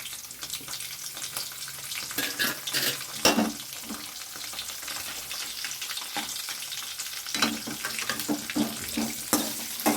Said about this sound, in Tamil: இப்போ நான் சின்ன வெங்காயத்தை ஃபுல்லாக கொட்டிக்கிறேன்.